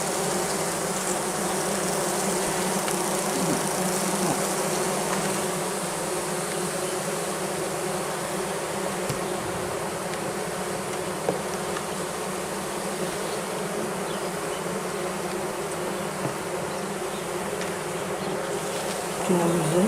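Honeybees in an opened hive with an old queen, a dense steady buzzing drone close by that holds unbroken throughout.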